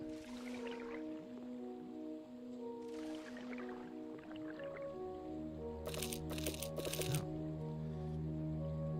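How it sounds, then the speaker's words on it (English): Wet sand is shaken in the Sandustry mining game: soft squishy, sloshing bursts arrive a few seconds apart, then three rapid rattling shakes follow in close succession, all over quiet tonal background music. "Pick up wet sand and shake it."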